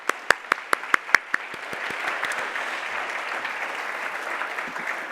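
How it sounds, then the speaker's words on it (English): Conference plenary audience applauding, opening with a few distinct loud claps that swell into a steady, dense wash of clapping from a large crowd, sustained to the end. "Let's give him one more round of applause."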